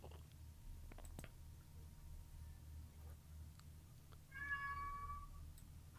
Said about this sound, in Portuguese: Acho que eu ah, ouvi um gatinho.